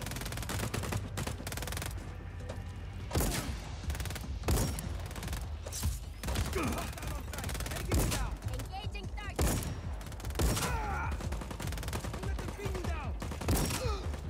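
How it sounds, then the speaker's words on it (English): Explosions and gunfire in the Just Cause 4 video game, repeated sharp blasts and bursts of fire in quick succession through a busy combat scene, with a voice talking over the action. "I love the explosions in this game."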